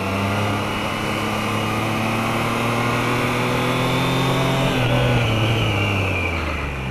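A Triumph Trident 660 motorcycle's small engine revs hard under acceleration on the road, a loud, steady drone whose pitch climbs and then drops slightly near the end, with wind noise throughout.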